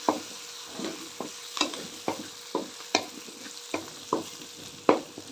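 Vegetables and tomato frying in a pan, a continuous sizzle broken by about a dozen regular scraping stirs of a spoon against the pan, close and fairly loud, no voices.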